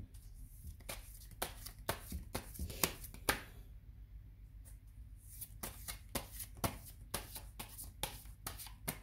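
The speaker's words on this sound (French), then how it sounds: "En battant les cartes" Tarot cards shuffled by hand in a quiet room, a steady run of crisp riffling and slapping bursts with brief pauses between, close and clear, no voices.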